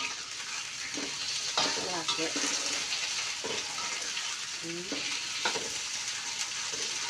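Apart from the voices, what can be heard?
stir-frying spices in a pan for shrimp stir-fry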